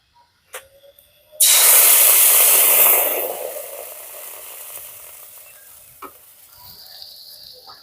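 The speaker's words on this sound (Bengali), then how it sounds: "কড়াইটাকে ভালো করে গরম করে নিয়ে দিয়ে দিচ্ছি ব্যাটারটা" Rice-flour batter for soft milk chitoi pitha hits a well-heated pan with a sudden loud sizzling burst that fades slowly into a softer hiss, with a few light clicks before and after.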